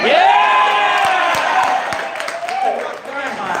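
An audience at a retreat event cheers and whoops loudly, then settles into scattered claps and calls, with a voice speaking over the crowd noise.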